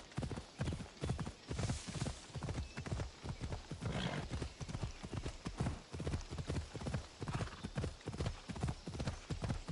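A horse's hooves clip-clop at a steady trotting rhythm in the game Assassin's Creed Odyssey, continuous and evenly paced, with a faint whinny partway through and no clear talk.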